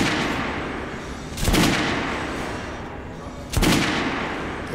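Two single gunshots ring out on a shooting range in Metro Redux, about two seconds apart, each a sharp loud crack over a steady hissing background.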